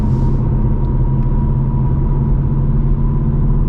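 A 500HP 2024 Mustang GT V8 gives a deep, steady rumble under a hard pull. The sound is loud, close and continuous for a few seconds, with no talk over it.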